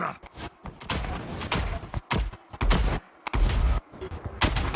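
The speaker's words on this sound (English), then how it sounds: "You can hear with all the explosions happening all over the map, it kind of breaks the sound at this point" Explosions and artillery-like booms erupt across a Total War: Warhammer battlefield of Dwarfs and Empire armies, a dense run of heavy thumps and bursts, some near and loud, others overlapping, with brief gaps between volleys.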